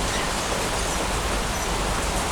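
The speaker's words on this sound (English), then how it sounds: "When this rain doesn't get any worse." Steady rain pours outdoors in Auckland, a dense, even hiss that stays constant and close throughout with no voices.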